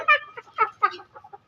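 A chicken clucking close by, a quick burst of short throaty clucks and squawks in uneven rhythm, loud and clear against a quiet background.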